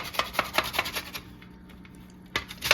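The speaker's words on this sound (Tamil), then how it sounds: "இப்போ நல்லா துருவ போகிறோம் கேரட்டை." Carrot being grated for carrot halwa, a series of quick rhythmic rasping strokes close up, pausing briefly and then resuming.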